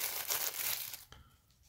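Small plastic bags holding rubber controller grips crinkle and rustle up close for about a second, fairly quiet, then fade to a faint tap and near silence.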